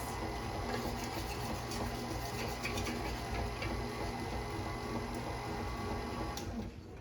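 An electric mixer beats rum cake batter with a continuous whirring drone, close and fairly loud, before easing off at the very end. No one talks.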